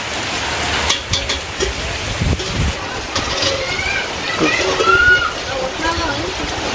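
Steady rain falls on a village on a wet day, a dense even hiss running throughout with a few voices and small household sounds mixed in.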